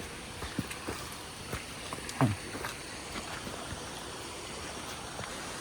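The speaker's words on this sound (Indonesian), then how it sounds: "Ini air mengalir di atas sana, masuk ke sini dan turun ke bawah." Water rushes steadily down across a landslide-damaged road in Sariak Bayang, a continuous near hiss of flow with a few scattered knocks and splashes.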